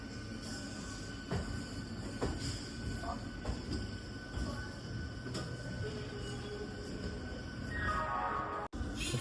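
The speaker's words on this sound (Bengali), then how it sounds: "ট্রেন ছেড়ে দিয়েছে" A train pulls out of a station in the dark before dawn, wheels rumbling and clacking on rails with a squeal rising near the end, steady and close from on board, no voices heard.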